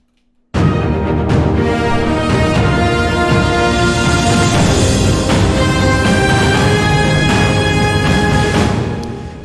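Orchestral trailer percussion plays loud and dense with deep booming hits, with a long cymbal swell washing across the top for several seconds before tapering at the end.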